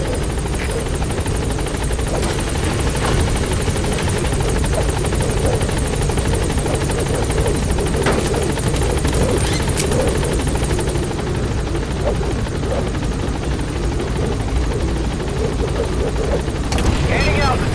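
A helicopter in Metal Gear Solid V drones steadily as it approaches a landing zone, its loud rotor chop and engine whine continuous throughout, with game radio voices talking over it.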